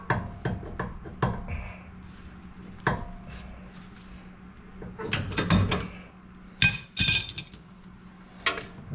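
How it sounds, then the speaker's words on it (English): A large crescent wrench working on a Ford Bronco tie rod gives a series of sharp metallic clanks and taps, irregular and close, with a denser cluster of knocks near the end. "So I'm gonna get my big old crescent wrench so I can get in there and"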